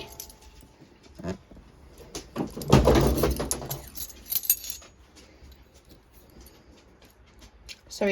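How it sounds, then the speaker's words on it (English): A dog knocks kitchen items over, producing a clattering, clinking crash of glassy objects that rises loudly for about two seconds in a quiet kitchen, followed by a few scattered small clinks. "that was our dog knocking everything over."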